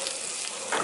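Onions frying in a pan to caramelize, heard as a brief, steady close sizzle with no talk.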